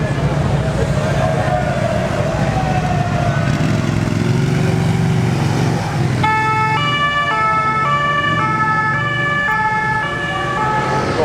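A police siren wails loudly as the car passes on a Monaco street, its tone sweeping over a steady engine and traffic rumble, with the siren's pattern shifting and staying prominent near the end; some voices can be heard.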